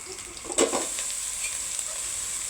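Garlic and onion frying in a wok, giving a constant bright sizzle with a short burst of stirring and spatula scraping near the start, then an even hiss and no speech.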